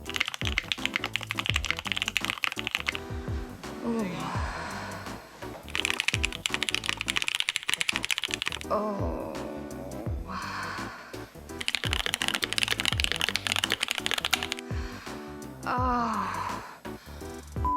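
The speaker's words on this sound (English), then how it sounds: "Before long, Taeha was building his own keyboards and sharing ASMR style videos" Typing on a custom-built mechanical keyboard in ASMR style: a dense, steady run of close key clacks lasting many seconds, with brief pauses and some breathy vocal sounds underneath.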